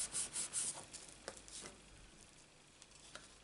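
Scrap paper rubbed across a freshly stamped image to lift off leftover ink, a soft dry scraping that comes in short quick strokes, louder at first and then fading to faint, sparse rubs with no talk.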